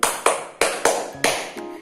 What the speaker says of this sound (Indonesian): Kalau Ibu bilang tepuk 2, semuanya ikut tepuk 2 kali ya